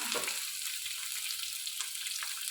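Garlic and green chillies fry in a pan with a steady, close hiss of sizzling oil for a couple of seconds, with faint stirring touches and no talking.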